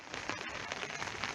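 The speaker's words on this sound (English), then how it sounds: "as you can hear and as you can see, rain is falling" Rain falls outdoors around a garden pond, a steady, dense patter of drops on surfaces, close and continuous.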